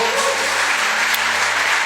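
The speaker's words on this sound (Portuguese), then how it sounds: "Aplauda o Senhor." A church congregation claps in praise, a dense wash of hands filling the brief moment loudly and evenly, with a low steady hum underneath.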